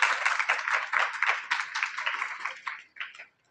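Audience clapping in welcome for a top-scoring student, Amit Maurya, being honoured at a school and coaching ceremony: dense, steady applause from many hands, fairly near, swelling in waves and then tapering off near the end.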